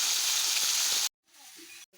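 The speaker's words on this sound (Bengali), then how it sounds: "তো দেখো তেলটা ছাড়া ছাড়া হচ্ছে মশলা থেকে।" Spice paste and potatoes sizzle loudly in hot oil with a dense, steady frying hiss. It cuts off abruptly, leaving faint room sound and a soft voice.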